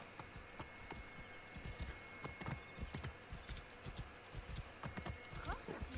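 A horse gallops in the Assassin's Creed Origins video game, its hooves drumming in a steady, quick clip-clop rhythm across the whole stretch, fairly quiet over a soft game background.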